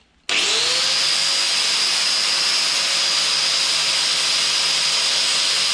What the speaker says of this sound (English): Let's get on to grinding.